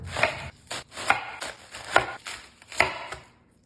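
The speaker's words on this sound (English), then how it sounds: "Let's work on that cabbage. We're gonna take it right off the core." Four firm knife chops through a head of cabbage, slicing it away from the core on a cutting board, spaced evenly about a second apart and close up with no talking.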